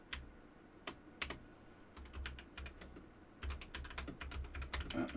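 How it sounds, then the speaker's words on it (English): Mechanical computer keyboard typing up close, with scattered sharp key clicks that build into faster, denser bursts of keystrokes, loud and alone. "I love my keyboard. Isn't that loud?"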